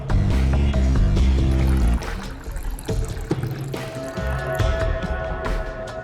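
Water is poured, splashing and trickling in short bursts, preceded by a louder chunk of background music at the start.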